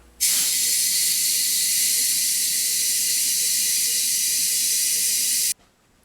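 Air rushes steadily into the rear tire of a 1991 Yamaha FZR 1000 on a gouged rim, a loud, continuous close hiss lasting about five seconds before cutting off abruptly.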